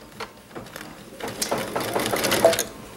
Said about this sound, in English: lower the presser foot, and hit start. Let it stitch for a little bit.